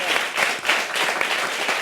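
Studio audience breaking into applause on a talk-show set, a brief dense burst of clapping at moderate loudness with no talk over it.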